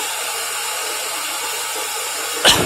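A CNC router fitted with a Syntec 6MB controller runs slowly step by step, giving a steady, even broadband hiss-like whir that holds constant, then a brief louder burst of noise near the end.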